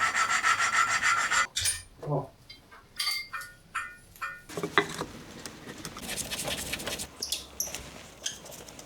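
An engine valve from a 1990s Honda being lapped by hand: irregular scraping and rubbing strokes, with short gritty rasps and pauses between them, close up, with faint background noise.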